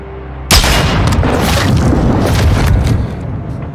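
A sniper rifle shot in the video game Call of Duty Modern Warfare II: one sudden, loud, booming crack followed by a long, rumbling echo that slowly fades over several seconds.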